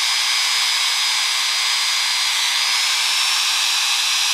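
A tool buffs an AR15 trigger's contact points to a mirror polish, giving a steady, loud high-pitched whir with a faint rising whine that holds unbroken throughout.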